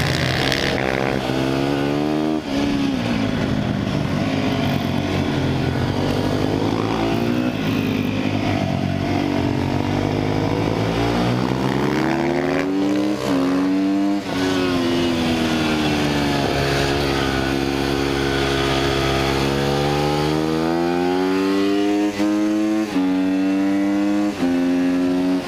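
Sherco 300 SEF-R dirt bike engine under a rider on a trail, droning loudly and continuously with repeated rises and falls in pitch as the throttle opens and eases, close and dominant throughout.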